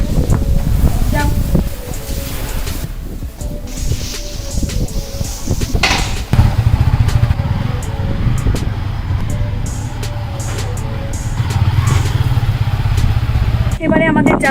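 A motorcycle loaded with luggage rides along a road, its engine giving a continuous droning rumble mixed with wind and passing traffic, while voices are heard at times.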